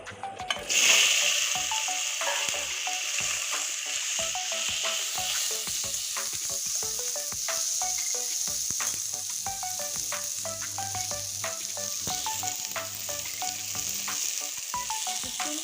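Tomatoes frying in a pan, later seasoned with salt and turmeric, give a continuous close sizzle broken by a rapid series of spatula scrapes and clicks against the pan.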